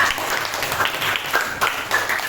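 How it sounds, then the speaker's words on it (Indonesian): Schoolchildren clap for Nadifa in a classroom, a steady patter of small hands that stays fairly even for a couple of seconds at moderate volume. "Ayo duduk Nadifa, tepuk tangan dulu untuk Nadifa."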